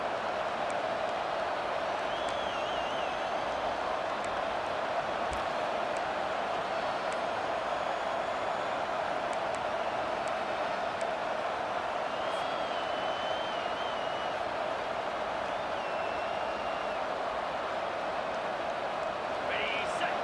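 A home crowd at a Nebraska football game roars in a steady, dense wall of noise as the defense tries to get off the field on third down, with a commentator talking over it.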